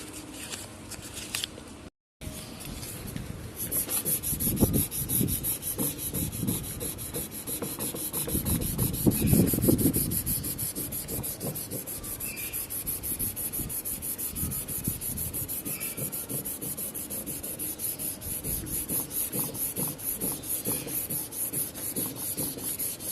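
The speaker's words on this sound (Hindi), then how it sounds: "आज मैं आपको दिखाऊंगा पीयू सीलर पर सैंडिंग किस तरह करते हैं" A PU sealer coat sanded by hand with 320-grit waterproof sandpaper gives a steady, close, raspy rubbing of back-and-forth strokes that runs continuously after a brief dropout near the start.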